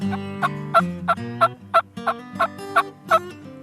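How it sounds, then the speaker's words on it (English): A wild turkey gobbles in a rapid series of about ten sharp, rattling bursts, close and loud, with no voices. "I like to hear them gobble"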